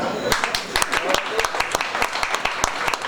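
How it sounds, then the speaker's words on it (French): An audience at a formal gathering claps, a scattered pattern of sharp individual claps over a murmur of voices, moderately close. "Je vous demande d'applaudir Méline."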